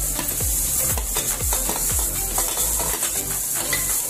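Green beans and cauliflower fry in a pan with garlic, keeping up a steady hiss while a utensil scrapes and stirs them in regular, evenly spaced strokes.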